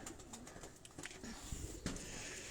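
Pigeons coo softly at a loft among many birds, a few faint low coos mixed with light rustling and soft background noise.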